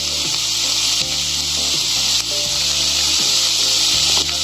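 Herbal greens sautéing in a frying pan, a bright continuous sizzle close up, with low rhythmic scraping and stirring knocks repeating every second or so.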